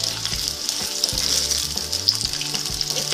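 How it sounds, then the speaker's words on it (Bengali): Potatoes frying in oil until reddish for a raw banana kofta curry give a loud continuous sizzle and crackle up close, with a low intermittent hum beneath. "আলুগুলোকে আমি একটু লাল করে ভেজে তুলে নেব।"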